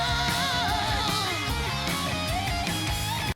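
Dense, heavily over-compressed full-band drum mix sounds flat and constant in level, with the kick and snare lacking punch and smeared into a loud wall of cymbals and instruments before cutting off abruptly.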